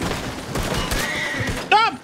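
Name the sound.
gunfire in the video game Red Dead Redemption 2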